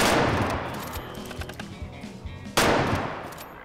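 Two loud rifle shots fired at wild boars in the hunting video game The Way of the Hunter, the first at the start and the second about two and a half seconds later, each trailing into a long rolling echo.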